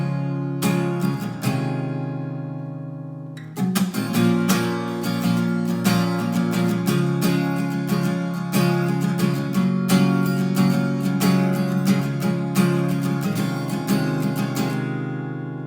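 An acoustic guitar plays the strummed part of a song. A couple of opening strums are followed by a pause, then a continuous rhythmic up-and-down strumming pattern with sharp, regular attacks, loud and close.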